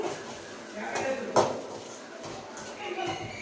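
Salt and turmeric being stirred into a cooking mixture in a pot, with spoon clinks and scraping against metal, one sharper clank standing out amid a steady kitchen background.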